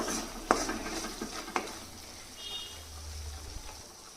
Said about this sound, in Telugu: ఇప్పుడు కలిపేసుకుందాం